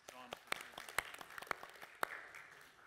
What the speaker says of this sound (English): Would everybody show their applause to John?